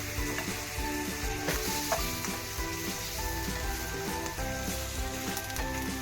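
Egg-coated bread sizzles and fries steadily in an oiled pan as it is flipped, a continuous close crackle with soft scraping and stirring clicks throughout.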